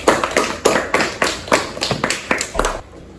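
A small sixth-grade classroom gives a student a short round of applause: a few close, uneven claps and taps in a loose rhythm that fade out after about three seconds.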